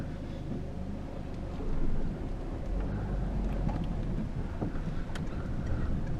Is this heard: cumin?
no